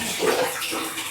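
Water runs steadily into a bathtub, a continuous splashing wash at close range with no voices.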